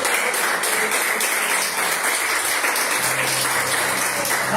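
A church congregation applauds during a sermon, a steady, close wash of many clapping hands with faint sustained tones entering near the end.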